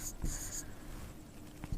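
Pen strokes scratch across paper as figures are written by hand, quiet short scribbling bursts in a brief close-up passage with no talking.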